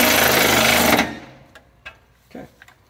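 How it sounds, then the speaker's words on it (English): A wrench runs down M6 bolts on the catalytic converter skid plate of a 2023 Honda Pilot: a loud, dense rattling buzz for about a second that cuts off, then a few scattered faint clicks. "I'm just running them down snug with the wrench"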